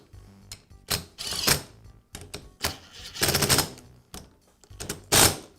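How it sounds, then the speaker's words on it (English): Pump body bolts on a Karcher pressure washer are tightened with a ratchet in several quick bursts of rapid clicking, separated by short pauses, close up and fairly quiet. "I'll go ahead and tighten up the first two bolts"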